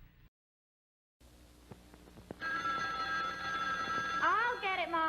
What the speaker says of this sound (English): Why did they ever invent the telephone?